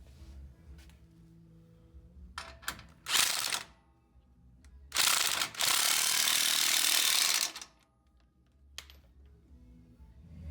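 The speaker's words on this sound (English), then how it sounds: "I'm going to go back and torque those so they'll be all good" A hand ratchet torques the U-bolt bolts on a Jeep JK front end, clicking in quick bursts with a short pause between them and a longer sustained run of clicks, close and clear with no talking.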